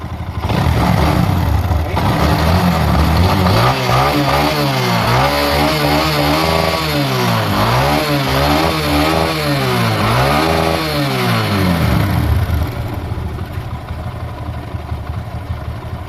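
A motorcycle engine runs steadily at idle after carburetor tuning, close up, with a few brief revs in the middle before settling back to a smooth, even idle.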